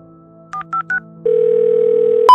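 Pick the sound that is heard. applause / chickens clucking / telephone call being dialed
telephone call being dialed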